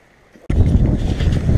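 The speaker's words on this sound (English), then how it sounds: "the wind did just kick up" Wind gusts suddenly pick up beside a river on a canyon trail, a roaring broadband rush buffeting the microphone after a quiet half second, loud and steady to the end.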